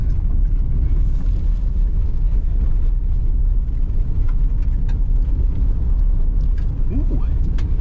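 A new Ford Ranger Tremor pickup truck's engine rumbles loudly as it drives fast over rough off-road ground, a constant heavy roar with rattling bumps and a few voices now and then.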